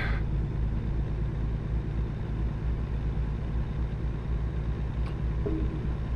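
Truck engine in American Truck Simulator droning steadily at low pitch, sounding underpowered as it labours along; a continuous, moderately loud hum with no talking.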